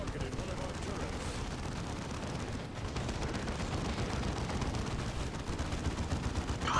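Gunfire in the Space Marine game, a continuous dense rattle of rapid shots and explosive bursts under a constant battle din, loud and unbroken throughout.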